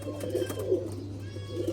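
Faqeer Gull pigeons cooing in soft, repeated low throaty phrases close by, a steady hum running underneath and no talking.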